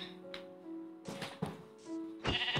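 Sheep in the Minecraft video game bleat several times in short, wavering calls, close and clear, interspersed with soft tapping game sounds and no speech.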